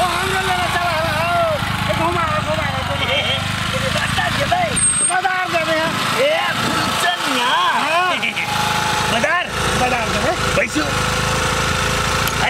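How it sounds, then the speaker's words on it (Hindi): A motorcycle engine runs continuously with a rough, steady drone in a Maithili comedy scene, loud and close throughout while several people talk over it. "मोटरसाइकिल"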